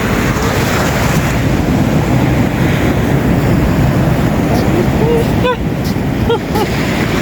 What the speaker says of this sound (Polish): A tutaj się fale rozwijają, no ładne fale.